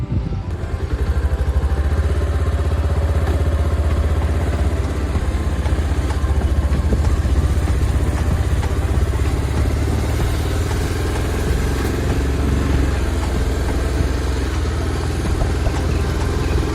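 A motorcycle rides along a rural road with a steady, close engine drone and rattle, continuous throughout.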